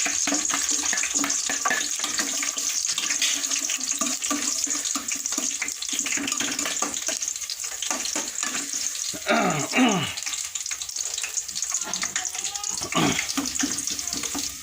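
Ginger fries in hot cooking oil with a continuous, close sizzle and crackle, broken by occasional scraping stirs and brief clinks, for a cooked fish dish.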